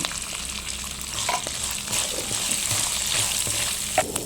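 Spices crackle and sizzle in hot oil, a continuous busy hiss with small pops, no talking.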